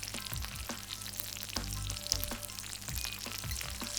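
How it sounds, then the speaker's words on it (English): Rack of lamb searing in a hot pan, giving a steady close sizzle and crackle throughout with occasional louder pops and spatters. "You should be hearing the nice sizzling sound."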